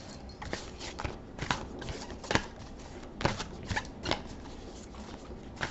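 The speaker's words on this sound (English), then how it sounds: "let's get to shuffling the deck." Cards being shuffled in short riffling bursts, several crisp flutters spaced irregularly, close and fairly quiet against a soft background.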